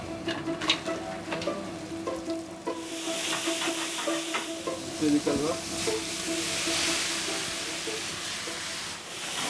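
Vegetables sizzle and crackle loudly in hot oil in a smoking-hot pan, with stirring clatter and bursts of hissing steam; a voice speaks briefly.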